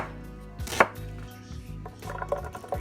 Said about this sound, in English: We're just going to roughly chop this and add it straight to the blender.